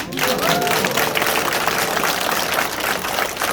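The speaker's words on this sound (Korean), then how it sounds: "우리 큰 박수 한번 쳐드리죠" Audience applause at the opening of a county-head candidate's campaign office in Yecheon, a steady wash of many hands clapping close by, sustained and fairly loud throughout with some crowd noise mixed in.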